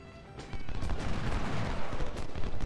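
Dense Civil War musket volley in the strategy game Ultimate General at Second Bull Run, a rolling crackle of massed rifle fire that swells and holds steady, loud and continuous with no talk.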